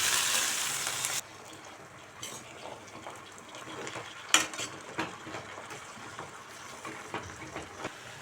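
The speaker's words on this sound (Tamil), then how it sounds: "அடுப்பை மீடியம் வச்சு கீரையை வந்து நல்லா பரட்டி விட்டுக்கலாம்" Drumstick leaves and softened onions stir-fried in a pan over medium heat; a louder burst of sizzle at first gives way to a quieter hiss broken by scattered scrapes and clinks of the spoon.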